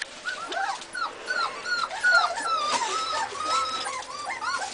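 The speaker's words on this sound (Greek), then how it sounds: "Αυτά είναι καθαρό αίμα σκυλιά Πόσαβετς." Posavac hound puppies whimper and yip in a string of high, wavering cries and short squeaks. The calls overlap close by and repeat continuously.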